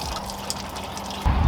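Coolant poured without a funnel into a Foxbody Mustang, a close steady trickle and splash of liquid that briefly gets louder and gushier at the end.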